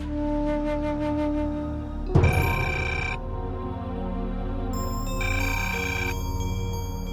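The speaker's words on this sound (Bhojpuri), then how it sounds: "फोन तो उठावा" A telephone rings with a repeated electronic ringtone in a Bhojpuri film scene, two bursts of bright tonal chirps over a steady low hum, fairly loud and with no talking.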